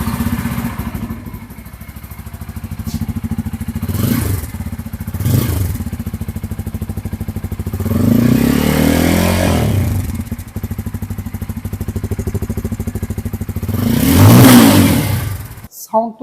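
A Bajaj Pulsar F250 motorcycle engine idles at a showroom and is blipped repeatedly, each rev rising sharply and falling back, with a long sweep near the middle and a strong final rev, loud and close, no talk over it.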